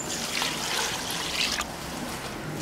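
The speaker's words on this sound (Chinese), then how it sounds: "加水。" Water poured into a pot of chicken and potato stew in a home kitchen, a soft, continuous trickling splash lasting a few seconds at close range, fairly quiet and alone.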